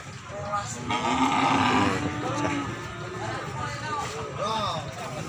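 Ongole crossbred cattle low and moo at the Imogiri cattle market in Bantul, Jogja, with several close, loud calls among market chatter and people talking nearby.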